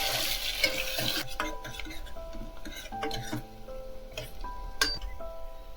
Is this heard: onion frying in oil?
yes